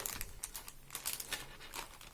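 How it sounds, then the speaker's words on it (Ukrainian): New plastic zip-lock bags from an AliExpress parcel crinkle and rustle as they are handled, a quiet, close, irregular run of crackles and rustles. "Ось тут ще всередині є такі, дивіться, два зіп-пакета."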